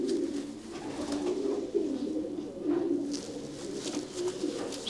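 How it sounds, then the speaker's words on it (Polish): Pigeons cooing in a loft, a low, continuous rolling coo from several birds overlapping close by, with soft rustling and faint higher chirps in the background. "Są to bardzo charakterne gołębie."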